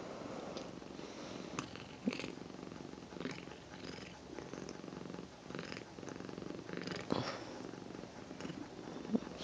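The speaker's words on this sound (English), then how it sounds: "You can hear the purr motors going." A pet cat purring softly at close range while lying on a bed pillow on waking, a quiet steady rumbling purr with occasional small rustles and movements.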